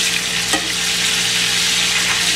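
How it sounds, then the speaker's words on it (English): Sliced potatoes sizzle loudly in butter and oil in a pan, a dense continuous frying hiss with a brief stir as they are flipped early on, close and without talk. "I'm just going to give everything a nice flip."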